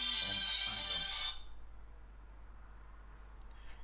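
A phone ringtone plays a bright, steady electronic melody for just over a second, then cuts off abruptly as the phone is muted, leaving a faint hum with no voices.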